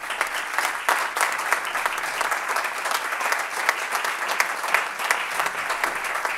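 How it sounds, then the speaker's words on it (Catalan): A crowd at a communication awards night claps strongly for an award recipient, a sustained and dense burst of applause with sharp individual claps standing out. "El rebem amb un fort aplaudiment."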